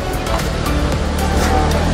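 Sea waves at Alassio make a steady, loud wash of surf close by, a continuous roar with no distinct breaks or voices.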